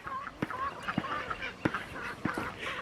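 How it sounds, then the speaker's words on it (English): A pair of pet ducks quack in a rhythmic run of short, nasal honks at moderate distance, with faint outdoor background noise around them. "this is Miss Duck and Mr. Duck"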